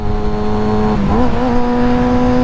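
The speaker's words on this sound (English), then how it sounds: "pulling the clutch and revving and then letting it out" Kawasaki ZX6R motorcycle engine held at a steady rev with the clutch pulled, then blipped higher and settling into a sustained loud drone, close and continuous with no talking.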